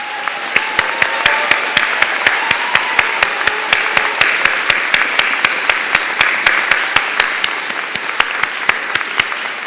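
Audience at a university diploma ceremony applauding honors thesis students, a loud sustained wash of clapping from a large crowd with a few distinct sharp claps standing out in a steady rhythm.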